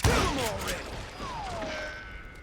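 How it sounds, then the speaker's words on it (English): Chaotic Call of Juarez: Gunslinger combat with sharp bursts and thuds, plus descending whistling whizzes of gunshots streaking past, fairly loud and continuous. "the classic sounds of the gunshots whizzing by and stuff as well"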